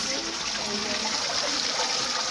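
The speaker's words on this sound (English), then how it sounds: "How do you flush this one?" A toilet in a luxury safari lodge room at Lemala WildWaters flushes with a steady, close rush of water that runs without a break.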